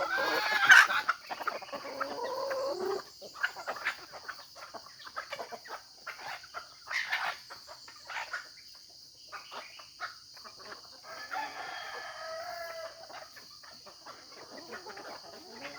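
A rooster crows near the start, followed by scattered hen clucks and calls over a constant high insect drone, with quiet gaps between.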